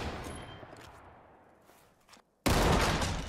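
Gunfire in the Ready or Not tactical shooter game, starting with scattered shots that fade, then a sudden loud, dense burst of rapid fire near the end.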